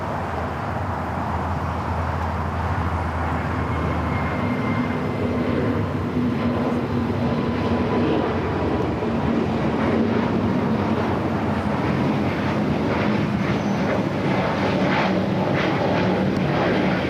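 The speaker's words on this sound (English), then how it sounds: "Next takeoff. Viva, Flight 511 heading to Guadalajara. It's an A320 Neo." An Airbus A320neo of Viva Aerobus takes off from runway 25R at Los Angeles airport, a steady broad jet engine roar that holds loud and continuous throughout with some wind noise.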